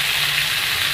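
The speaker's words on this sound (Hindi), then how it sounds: "इसको फ्राई कर रही हूँ।" Chicken pieces frying in a kadai pan, a steady close sizzle filling the whole second with no talk.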